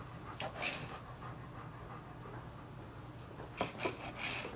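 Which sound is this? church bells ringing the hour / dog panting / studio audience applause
dog panting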